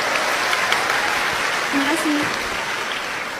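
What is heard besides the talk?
audience applause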